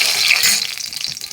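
Vegetables hit a little hot oil in a kadai with a bright, steady sizzle and hiss that fades slightly over a brief moment.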